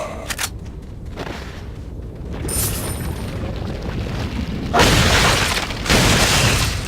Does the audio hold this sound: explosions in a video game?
yes